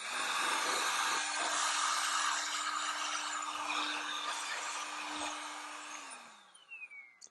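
ATEngeus rechargeable variable-speed compressed air duster blowing on low speed to clear dust from a fan: a steady, close hiss and whine for about six seconds, then winding down and stopping.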